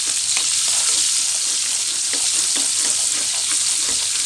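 Onions fry in a hot pan, giving a continuous loud, hissing sizzle, with faint soft knocks from stirring scattered through it.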